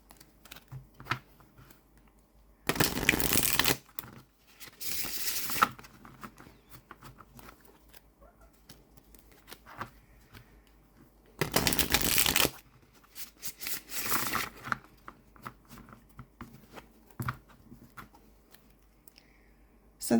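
Linen-finish tarot deck being shuffled in two separate bursts, each a loud riffling rush of a second or so, with quieter card handling and soft clicks between them.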